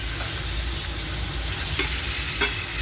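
Chicken pieces frying in hot oil, a steady dense sizzle throughout with a couple of brief crackling pops, near and fairly loud, no talking.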